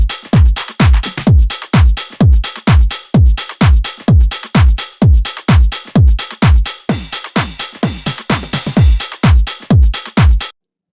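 Tech house drum pattern with the kick's low end removed, a steady four-on-the-floor pulse of thinner, clicky kicks with hi-hats and percussion ticking between them, loud and even before stopping abruptly.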